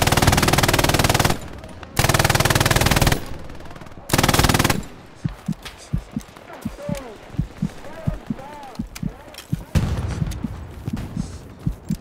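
Machine gun fire in an airsoft-style team match at a chapel site, three long loud bursts first, then scattered sharp single shots and short volleys, some nearer and some farther off.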